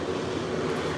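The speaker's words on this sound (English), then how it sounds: "Do you hear that train in the background?" A train rumbles by in the background as a steady, continuous low roar with broad noise above it, moderately loud and unbroken, with no talking.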